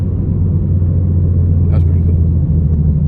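An Audi TT V6 engine with a new shift knob, driven through no-lift shifts in second and third gear, holds a steady, loud low rumble close by for the whole stretch. No distinct gear-change breaks stand out.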